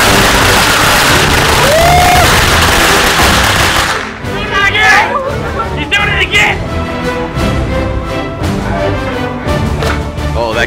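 Fourth of July fireworks bought in Cheyenne crackle and pop in a rapid, uneven string of loud bursts and sizzles, following a whistling launch, with excited people talking over them.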